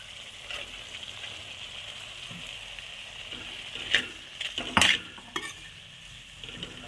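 Rice with vegetables and tomato sauce is stir-fried in a pan for street-style egg fried rice, with a steady sizzle under scraping and clanking of a spatula against the metal.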